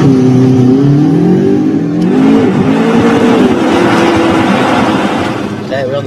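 A McLaren supercar in sports mode revs up and back, its engine note climbing and wavering for several seconds, heard from nearby with people talking over it.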